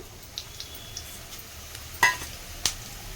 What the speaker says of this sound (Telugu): ఆయిల్ వీటెక్కిన తర్వాత కొద్దిగా ధనియాలు వేసుకుంటున్నాను